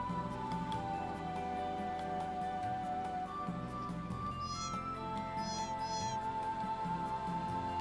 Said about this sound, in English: Get out of the way, cat.